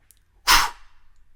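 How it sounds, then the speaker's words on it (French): One energetic breath pushed out through the mouth, a short breathy whoosh that fades after about a quarter second, close and clear in a quiet room. "expirez le même volume d'air par la bouche, énergiquement"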